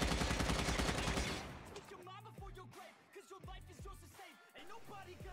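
Rapid automatic M4 assault rifle gunfire in Call of Duty Mobile bursts loudly at first, then continues in quicker, choppier volleys with a voice talking underneath.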